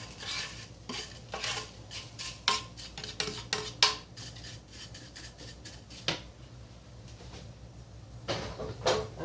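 Toasted coconut slid from a pan into a cooker dish, giving a run of close scraping, tapping and metal cookware clatter with sharp irregular knocks and a brief lull near the middle.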